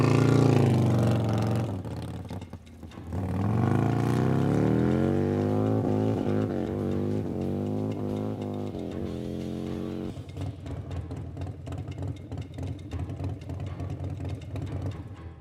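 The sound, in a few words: Harley-Davidson bagger motorcycle on land speed record run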